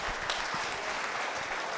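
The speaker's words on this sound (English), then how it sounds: "let's give them one more round of applause" The crowd at a county 4-H showmanship contest gives another round of applause, an even, continuous spread of many hands clapping at moderate volume.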